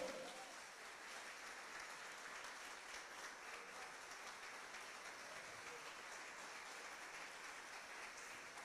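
A church congregation applauds steadily for several seconds, a continuous dense clatter of many hands that sounds faint and distant, with no clear talk over it.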